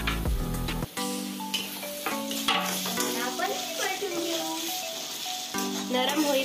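Tomatoes go into fried onions in a pan, giving a close sizzle with stirring and scraping, partly under tonal, melodic sound like a voice or background music.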